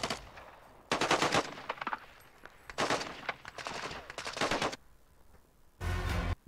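Automatic gunfire in Call of Duty Modern Warfare, loud sustained bursts separated by short pauses, ending with a final heavy burst.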